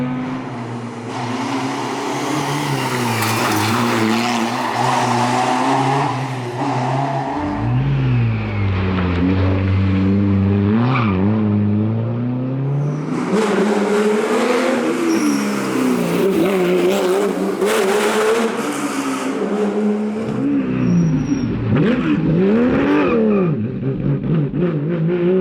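Historic rally cars, among them a Ford Escort, a Mitsubishi and a Porsche, race on a stage at Rallye Antibes Côte d'Azur, with loud engines revving hard, shifting gears and roaring past close by in several successive runs.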